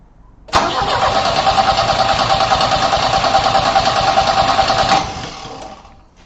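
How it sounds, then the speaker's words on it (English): A Volvo 360 GLT engine cranks and catches, then runs loudly and steadily for about four seconds before shutting off. "I have to do this whilst leaning into my car to turn the engine on"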